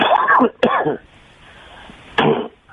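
Two short, harsh coughs close together, then a quiet pause and one more cough, close and fairly loud with no talking.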